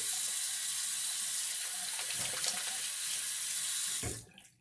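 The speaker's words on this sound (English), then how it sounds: "Hold on, let me rinse off." Water running steadily from a sink tap while someone rinses off after a shave, a continuous splashing hiss with a few soft knocks, then the flow cuts off near the end.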